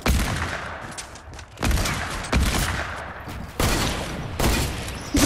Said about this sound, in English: Why are you using a shotgun?